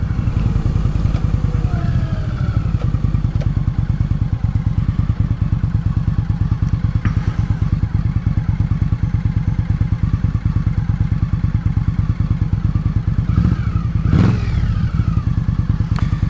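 An Indian Scout Bobber motorcycle engine idles with a loud, close, rapid thumping pulse and gets a few quick revs near the end, along with mechanical clatter.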